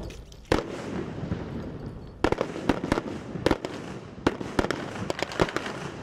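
Gunfire at a police training college during elite force firing practice, a series of sharp, separate shots at irregular intervals, some loud and close, others fainter, over steady outdoor background.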